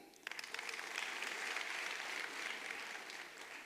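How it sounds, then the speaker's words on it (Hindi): Applause from an audience at a motivational sales event breaks out after a brief quiet start, then holds as a steady, dense clatter of clapping at moderate loudness. "जोरदार ताली।"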